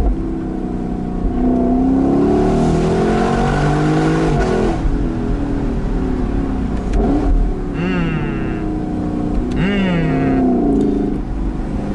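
A Lexus LC 500 convertible's V8 engine revs hard, rising and falling in loud, close sweeps that echo off a nearby wall, with brief gear-change dips between pulls.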